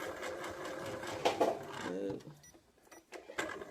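A sewing machine runs a triple stitch on doll-making fabric, a rapid mechanical whir that slows and stops partway through. A few quieter mechanical sounds follow.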